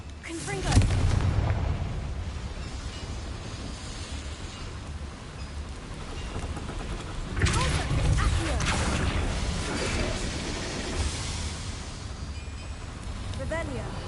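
A Confringo blast spell in a Harry Potter video game, a loud booming explosion near the start followed by a long rumbling roar, with a second heavy burst midway and continuous mechanical noise throughout.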